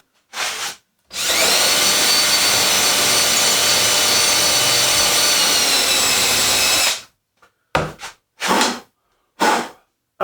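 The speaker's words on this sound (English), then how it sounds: "I need to give everything a light sanding before glue up" Light sanding of wood parts for pantry shelves before glue-up, a steady loud abrasive whir running about six seconds, with short separate bursts of tool noise before and after.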